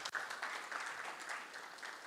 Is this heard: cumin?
no